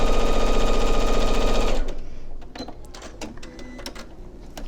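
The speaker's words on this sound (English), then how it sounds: "I'm going to keep going and sew down this other side" A sewing machine stitching quilt pieces runs loud and fast with a rapid mechanical rattle, then stops. A scatter of small clicks and handling noises follows.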